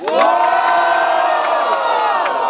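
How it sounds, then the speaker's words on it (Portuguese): A large crowd at a freestyle rap battle final cheers and shouts loudly and continuously, a dense wall of voices with occasional whoops rising above the roar. "Muito barulho quem gostou das rimas do Brenos"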